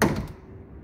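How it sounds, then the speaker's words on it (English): A car's rear door gives a single short thunk as it is opened, close by and brief, with a quick fading rattle. "So open up the back door."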